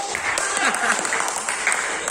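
Continuous clapping from a group of students in a class fills the whole stretch, steady and moderately loud, with a few voices mixed faintly underneath.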